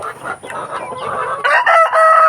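Native free-range chickens clucking close by while a rooster crows loudly over them, short and busy at first, then a strong drawn-out crow near the end.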